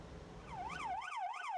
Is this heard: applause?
no